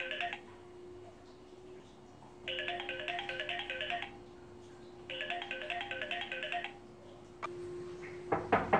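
Telephone ringtone plays in two bursts of rapid, repeating electronic tones separated by quiet pauses, over a steady low hum, with a few clicks and a sharper noise at the end.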